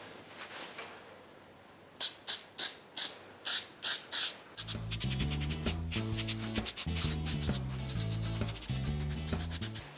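3M Super 77 multi-purpose adhesive is sprayed along the edge of a sun visor during a custom wrap, heard as a series of short close aerosol bursts in the first half, then covered by loud music.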